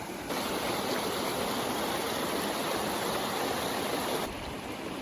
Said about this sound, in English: This is Upper Lamoille Creek.